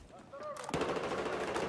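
Sustained automatic gunfire from Battlefield 4, fired through a wall, erupts after a brief quiet lead-in and continues as a rapid, loud stream of shots.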